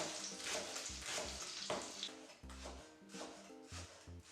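Steady crackling sizzle of sausage and sliced leek frying in a pan, with a few soft clinks and stirring scrapes, close and continuous.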